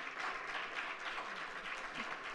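Audience applause for panelists at the close of a discussion event, a short burst of steady, moderately loud clapping.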